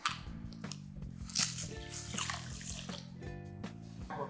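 Salt being poured into a bowl of water for a classroom egg-density experiment, giving soft splashing and grainy trickling close up, with a faint tonal hum underneath.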